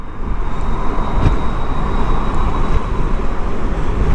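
An EEzon E3 Cargo electric scooter at full throttle gives a loud, steady rushing drone of motor and wind, continuous and close throughout with no voices.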